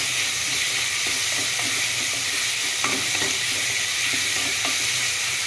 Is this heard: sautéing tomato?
yes